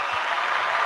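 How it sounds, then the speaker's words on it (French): Listeners at a talk on refuges around the world break into applause, a steady continuous patter of clapping heard at an even level. "Je vais demander aux auditeurs de vous applaudir."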